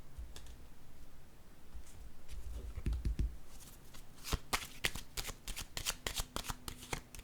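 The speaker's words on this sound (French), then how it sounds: "Je vais déposer une carte sur celle-ci." Cards handled and laid down on a table, a soft shuffle giving way to a flurry of crisp, close snapping and tapping sounds, faint and with no talk.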